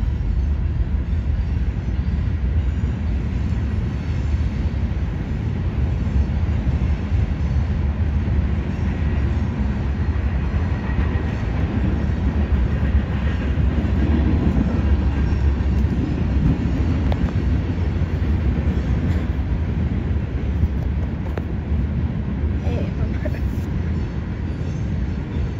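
Norfolk Southern locomotives lead a Union Pacific freight train through Lombard, Illinois, a steady, loud rumble of rolling cars and wheels that goes on without a break, close to the track, with people talking over it.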